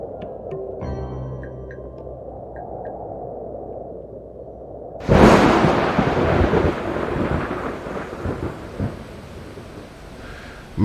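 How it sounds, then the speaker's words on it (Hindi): Heavy rain pours steadily while a sudden loud thunderclap bursts in, followed by continuous rumbling storm noise and downpour; faint musical tones sit quietly before the crash. "बरसात का हाल न पूछो,"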